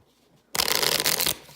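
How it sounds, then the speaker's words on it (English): A deck of cards shuffled for a D-Day at Peleliu board game gives one loud, dense riffling burst of about 0.8 seconds, close to the microphone, after a moment of quiet. "Have to shuffle because we had so many close combats last round."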